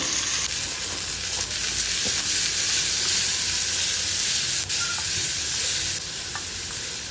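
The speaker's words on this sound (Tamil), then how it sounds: "ரெண்டு தக்காளியை பொடிசாக கட் பண்ணி வச்சுருக்கிறேன் தக்காளியை போட்டுடலாம் தக்காளியை போட்டுட்டு தேவையான அளவு உப்பு போட்டுட்டு இதையும் நல்லா வதக்கி விட்டுறலாம்" Chopped tomatoes with salt sauté in a pan for fish curry, producing a loud, continuous sizzle with occasional clicks and scrapes of stirring.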